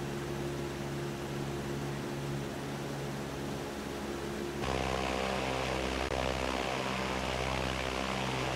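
A light propeller aircraft drones steadily while flying a close right landing pattern for runway 27 in Microsoft Flight Simulator X, arriving at Sun 'n Fun, the engine tone continuous and then louder and fuller partway through.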